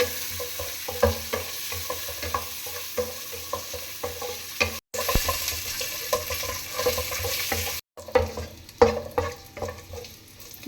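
Mixed dry fruits roast in a pan while being stirred, a continuous sizzle layered with scraping and rattling stirs, interrupted by two short pauses.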